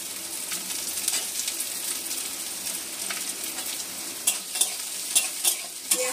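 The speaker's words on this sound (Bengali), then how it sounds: "পেঁয়াজটা একটু সামান্য লাল লাল করে ভেজে নেবো আগে।" Onion frying in hot oil in a home kitchen gives a steady, soft sizzle, broken by a few sharp scraping and stirring clicks toward the end; no one speaks.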